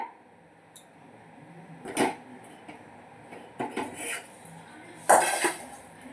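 Roasted garam masala spices tipped from a pan into another metal vessel, with sparse clinks and scrapes of cookware and a couple of brief rattling pours, fairly quiet and close.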